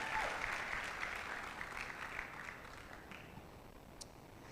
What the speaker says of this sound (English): So just give them a round of applause.